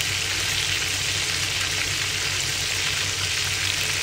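Second batch of salt-and-pepper crispy chicken frying in hot oil, a dense, steady crackling sizzle that runs close and loud throughout with no talking.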